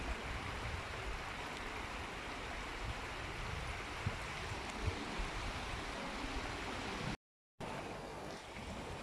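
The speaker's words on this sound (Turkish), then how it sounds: "Yağan yağmurlardan sonra deredeki su miktarı bayağı artmış arkadaşlar." Hacı Ahmet creek in Balçova, swollen after rains, runs with a steady, moderate rushing of water and a light wash of wind, unbroken apart from a momentary dropout near the end.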